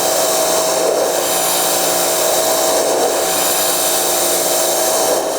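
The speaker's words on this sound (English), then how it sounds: "Once you've sprayed them down with the pressure washer," A pressure washer blasts car floor mats with a loud, continuous hiss and steady motor whine, close by and unbroken throughout, with no voices.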